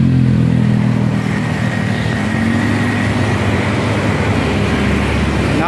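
A Suzuki motorcycle engine runs at a steady idle nearby, a continuous low droning hum with a faint higher whine, unchanging for several seconds with no talk.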